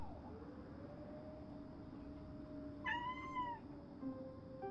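A cat meows in a Crypt TV horror film, giving one clear, rising-and-falling meow in the middle over a steady low background hum, followed by a fainter trailing note.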